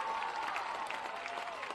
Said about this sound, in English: And this crowd, hungry for something big to happen, is applauding.